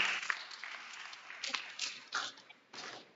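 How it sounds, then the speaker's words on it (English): A school workshop audience claps briefly, a few short bursts of scattered applause that sound faint and thin, with a little speech mixed in. "Clap your hands for him"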